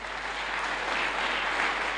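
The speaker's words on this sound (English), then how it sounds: "Please, once again, let's clap for him." Applause from an audience at a memorial lecture, a soft, even spatter of clapping heard at a distance and fairly faint throughout.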